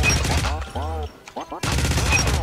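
Type 25 rifle in the video game Ironsight firing rapid automatic bursts, a loud close clatter that stops for about a second while a voice speaks, then resumes in another burst.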